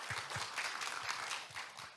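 Audience applause fills a formal 2021 Mental Health Day ceremony as Ministry of Health and Welfare commendation recipients are honored; steady, dense clapping from a crowd lasts throughout without a break.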